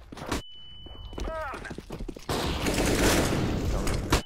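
Test gunfire in the CS:GO video game: several sharp shots, then a dense, loud burst of firing that fills the second half, with talk and game sounds around it.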